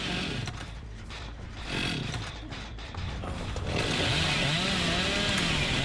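A chainsaw revs in Dead by Daylight, a loud, continuous roaring drone that swells and climbs in pitch toward the end, with game noise and no talk over it.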